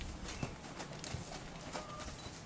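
Horse hooves clip-clopping at a walk on a ranch, a steady faint rhythmic thudding under broad outdoor noise, with no talking.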